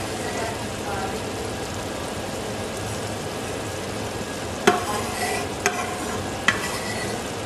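Handi kebab pieces sauté in a pan with a steady close sizzle and stirring, then a few sharp knocks of a utensil against the pan near the end.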